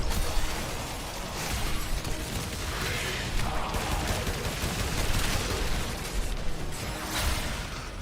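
Slow-firing super rockets in the game Warframe, loud repeated whooshing blasts and impacts layered in a dense, constant wash of combat noise with no speech.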